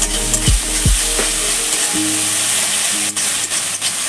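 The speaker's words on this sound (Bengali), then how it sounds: "এবার পুরো মশলাটা একসঙ্গে মিশিয়ে নেব" Garlic, ginger and spices for chicken tehari fry in hot oil, a loud close hiss and sizzle with a couple of quick stirring scrapes early on, then a steady bubbling fry with no speech.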